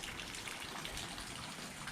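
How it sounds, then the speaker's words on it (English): Steady rain falls outdoors as a dense, even hiss of drops, faint and continuous throughout with no talking. "it's raining"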